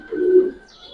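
Silver khaki pigeons give one soft, low coo up close, a brief throaty call that fades quickly against a quiet background.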